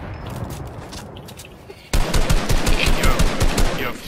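Rapid automatic gunfire in Fortnite aimed at the player breaks in abruptly after a quieter stretch, then rattles on in dense, loud, close bursts to the end.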